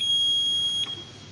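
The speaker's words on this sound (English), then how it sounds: "Experts say smoke alarms should be placed on every floor of a home" A household smoke alarm sounds a loud, steady high-pitched tone that cuts off after about a second, with no talk.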